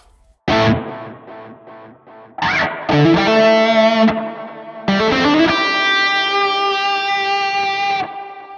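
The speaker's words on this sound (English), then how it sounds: "this turns up the echo. This turns up the reverb." Electric guitar played through an amp with heavy echo and reverb, sustained chords ringing out after a few plucked notes, loud and close.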